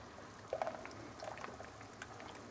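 Sauce bubbling and spattering in a pan, a soft continuous simmer with small pops.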